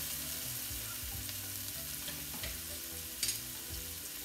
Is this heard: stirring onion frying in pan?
yes